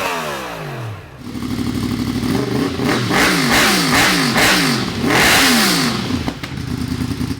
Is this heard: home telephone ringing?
no